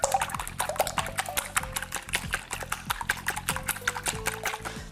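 Eggs, about four or five, broken up in a bowl, with a rapid, steady run of small clicking taps of utensil against bowl going on nonstop at close range, alone without talk.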